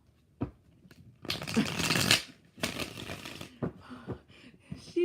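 Tarot cards being shuffled in a few quick riffling bursts close by, with brief pauses and soft handling noises between them.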